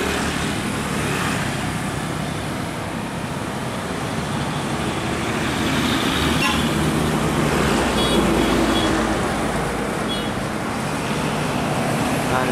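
A Volvo container truck passes on the road, a steady broadband engine and tyre roar that swells gently midway and stays loud throughout, with no talk.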